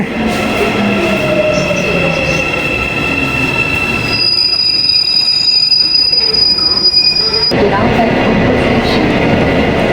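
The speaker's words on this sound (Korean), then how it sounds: "자, 열차가 들어왔네요." A subway train pulls into a station, wheels squealing loudly in sustained high-pitched tones over a heavy rolling rumble, with people talking faintly nearby.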